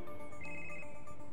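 A phone ringing in Marvel's Spider-Man Remastered, a quiet electronic ringtone with steady tonal pulses over game background sound, brief and fairly faint.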